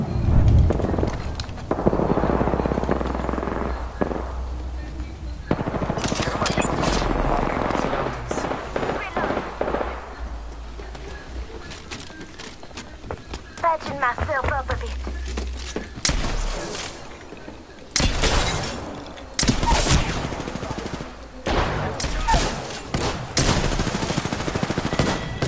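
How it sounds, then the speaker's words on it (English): Gunfire in Apex Legends: repeated sharp bursts of rapid shots and single cracks come close and loud, broken by short gaps, with game callouts and chatter between the volleys. "Shot fired."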